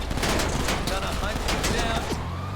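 Rapid bursts of gunfire from the GTA video game crack out in quick clustered volleys, fairly close, mixed under someone talking.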